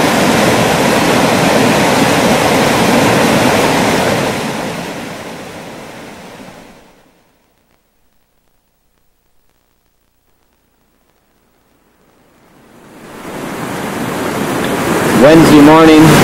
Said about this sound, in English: This is the waterfalls that we slept next to and listened to all night.